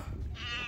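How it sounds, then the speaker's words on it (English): A white cat gives a single short meow, close and fairly soft, over a low background rumble. "It's a white cat."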